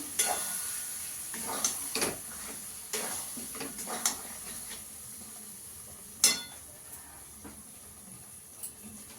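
A paste of ground nuts, milk and yogurt stirred into frying chicken in a pan, with a low, steady sizzle under scattered clinks and scrapes of a spoon against the metal, close by and without talk.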